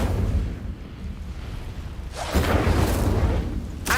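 An Incendio fire spell is cast in Hogwarts Legacy, a sudden whooshing burst of flame midway that roars briefly over low rumbling ambience, then fades, with a second flare at the end.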